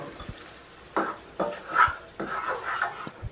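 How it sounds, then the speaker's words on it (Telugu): A spoon stirs cashew paneer curry gravy in a pan, making several short, close scraping strokes over a soft simmering background. "కర్రీ కూడా మిక్స్ చేసుకోండి మొత్తం"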